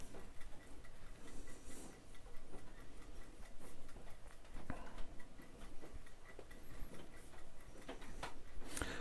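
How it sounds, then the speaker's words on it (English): A timer ticks steadily and faintly in a quiet room, its even clicks repeating throughout under a low background hiss. "I like the ticking of the timer as well."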